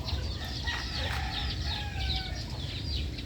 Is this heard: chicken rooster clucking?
yes